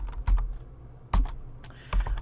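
Keys clack on a computer keyboard as a web address is entered, three short close bursts of typing separated by brief pauses, with no voices.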